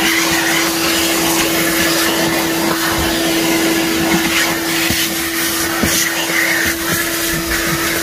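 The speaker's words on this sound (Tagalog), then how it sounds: "lahat 'yan ay babacuumin muna natin" Vacuum cleaner working on a car interior: a loud, continuous motor drone with a steady whine and occasional scraping bumps as the nozzle moves, and someone speaks briefly.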